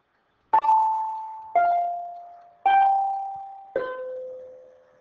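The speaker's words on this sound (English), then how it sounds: "my apologies for our school bell" A school bell rings in a classroom, four separate loud chimes each sounding a slightly different pitch and slowly fading, evenly spaced about a second apart with silence before the first.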